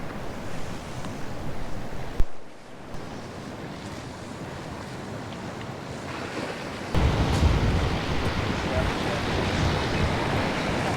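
Sea waves wash steadily onto the shore below the Tulum ruins on the Riviera Maya coast, a continuous broad roar with heavy wind buffeting the microphone. The surf surges louder for the last few seconds.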